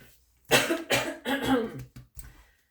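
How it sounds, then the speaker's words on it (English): Several harsh, close coughs come in quick succession, then a couple of shorter, softer ones trail off into quiet. "Hold on, I have to cough."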